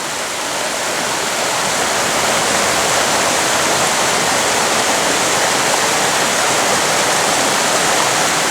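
A river's rushing water flows in a loud, steady wash of noise, close by and continuous, with no voices.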